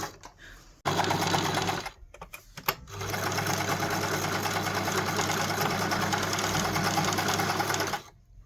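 A sewing machine stitches in a zip, starting with a short burst, pausing, then running in a long steady whirring hum up close before stopping.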